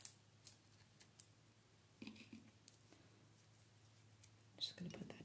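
Quiet, close snips of scissors cutting through gummy, papery Chinese dates to take out the pits, a few sharp cuts spread over a hushed background with faint soft rustling.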